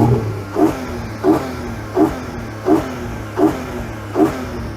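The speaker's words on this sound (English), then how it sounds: "However, if you get the GTS model, its naturally aspirated flat 6 sounds like this." A 2021 Porsche Cayman GTS with its naturally aspirated flat-six revs repeatedly, six or seven sharp blips at a steady rhythm over a low idle, close and loud with no voices.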